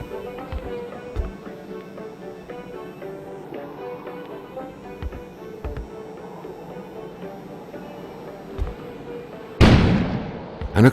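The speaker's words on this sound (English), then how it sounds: "An explosion suddenly occurred outside" A sudden loud explosion outside in the video game Kona, a sharp broadband blast with a decaying rumble near the end, following quieter ambient game music and a few low thumps.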